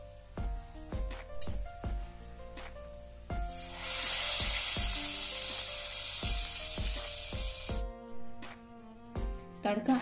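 A loud burst of sizzling as hot tadka with Kashmiri red chilli hits a pan of black masoor dal, a bright hiss swelling for several seconds between sparse clinks and knocks.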